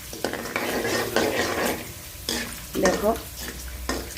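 Vegetables frying and being stirred in reused old oil, a steady sizzle with scraping of a utensil against the pan, close by; a voice speaks briefly.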